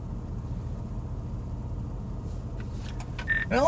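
A big truck approaches along a road during storm chasing near a major fire in the Oklahoma Panhandle: a steady low engine rumble that swells louder toward the end as it draws near.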